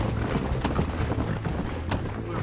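Horse hooves galloping in the video game Red Dead Redemption, a steady rapid clip-clop under a dense, loud layer of game ambience and music.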